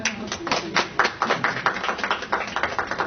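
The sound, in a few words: audience clapping for Saeed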